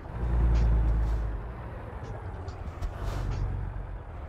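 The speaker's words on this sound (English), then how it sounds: "Go ahead and shut the truck off, the parking brake on." A Peterbilt 579 truck in American Truck Simulator is shut down with its parking brake set: a heavy, low engine rumble eases after the first second and a half, followed by a softer rumble and faint brief hisses.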